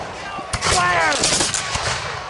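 Musket volley from American Revolution reenactors in an open field battle: a loud, sharp blast followed by several more overlapping shots in quick succession, with shouted commands and voices around them.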